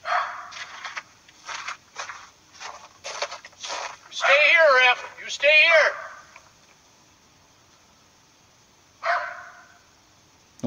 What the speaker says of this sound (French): le chien là il aboie sur la chose